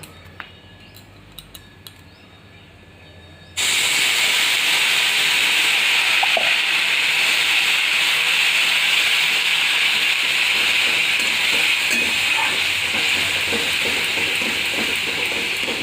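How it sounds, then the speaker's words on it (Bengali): Water hits a hot pan of fried nuts for savoury semolina halwa with a sudden loud hiss, becoming a steady sizzle with faint bubbling crackles after a few quiet clinks. "এবার আমি জল দেবো"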